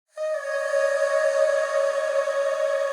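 Vocal ad-lib riffs drenched in Valhalla reverb, Vintage Verb and Shimmer, blur into one steady, sustained harmonic wash that swells in quickly and then holds at an even level without a break.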